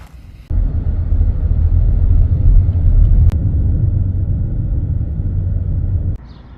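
A car on a Route 66 road trip near Barstow rumbles along steadily, a loud, low interior drone of engine and road noise that starts abruptly and cuts off near the end.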